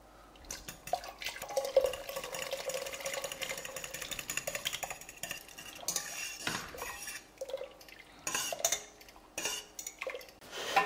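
A spoon scrapes and clinks against a soup pot while an egg yolk and lemon juice mixture is stirred into white chorba, with irregular metallic taps and soft liquid sloshing at close range.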